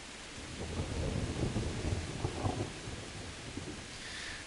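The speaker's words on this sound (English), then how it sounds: "I love the rain, the graphical effects of the rain dripping off of the roof" Steady rain and rolling thunder fill the scene in the medieval game Kingdom Come: Deliverance, with rain dripping off a roof; a dense, continuous downpour swells under low rumbles, with no talking.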